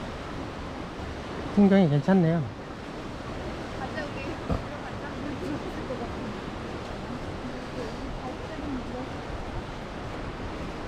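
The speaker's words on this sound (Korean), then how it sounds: "파도가 치는데" Sea waves break on rocks at Hanagae Beach on Muuido, heard as a soft, steady wash of surf in the background while someone speaks briefly.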